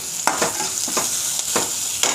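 Onions sautéing in a pan with a little salt, stirred now and then: a steady sizzle runs throughout, broken by several short scraping stir strokes, close and moderately loud with no talking.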